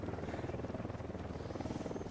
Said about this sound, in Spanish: Ojo, un helicóptero de la unidad.